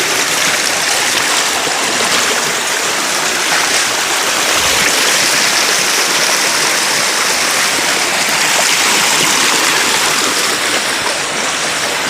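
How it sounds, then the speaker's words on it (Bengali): A clear mountain stream in Bandarban rushes steadily down a rocky channel, a loud, continuous close-up roar of water with no pause and no voices. "ঝিরিপথ দিয়ে কলকল করে ছুটে আসছে পাহাড় গলা স্বচ্ছ পানি"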